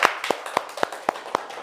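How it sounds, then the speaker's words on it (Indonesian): A class claps in a micro teaching session, giving about seven sharp, evenly spaced claps at a brisk, steady rhythm, close and distinct. "Kita tepuk tangan untuk kelompok 1 dan kelompok 2."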